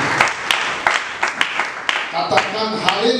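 Scattered clapping from a church congregation, a few sharp distinct claps spaced out before thickening into brief applause, with voices murmuring underneath toward the end.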